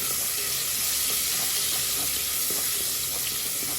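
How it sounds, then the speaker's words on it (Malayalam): Onions frying in a pan at a night-time home kitchen, salted to soften, giving a loud continuous sizzle with faint stirring scrapes throughout. "ഈ ഉള്ളി നല്ലോണം ഒന്ന് വാടിക്കോട്ടെ"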